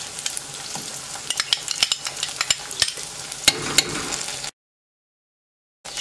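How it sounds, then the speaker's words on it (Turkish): Tomato, tomato paste, ketchup and thyme being sautéed in a pan, with a steady sizzle and repeated scraping stirs up close, no talking, ending in a short silent gap before the frying noise returns. "Artık bunları birkaç dakika kavuracağım."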